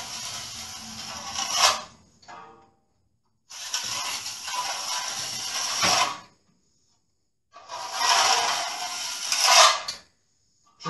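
A steel trowel scrapes and flattens a hardwall patch plaster repair in three close, rasping passes of about two seconds each, separated by short pauses.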